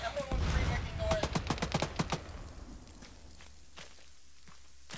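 Rapid bursts of gunfire from a military video game session, a tight cluster of sharp shots in the first two seconds trailing off into a few scattered, fainter reports over a quiet background.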